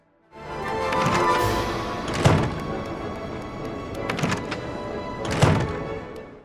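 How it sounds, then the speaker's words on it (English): Locked-door sound effect from the Kingdom Hearts 3 video game, a few dull thunks spaced about a second apart over a steady game-ambience bed, moderately loud with no talking. "we see 2 more doors on the opposite side. Though thankfully, these ones don't lock our game. Instead, they just do a little sound effect."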